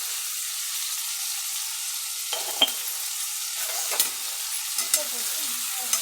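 Eggplant for biryani sautéing in a pan, a steady frying sizzle with a few sharp stirring scrapes and clinks breaking through at intervals, close and moderately loud with no talking.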